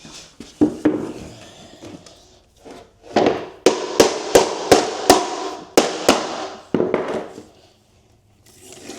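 Hammer tapping LVT flooring planks into place in a garage conversion, a series of sharp hard knocks in uneven bursts, about a dozen close blows.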